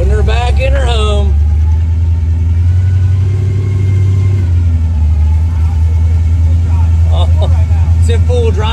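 Grave Digger #1 monster truck engine drones loud and steady while driving, with voices talking over it near the start and end.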